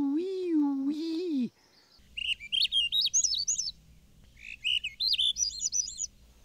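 A voice first mimics a rising whistle, then a Swainson's thrush sings two clear bursts of ascending, flute-like spiraling notes, fairly close against a quiet background.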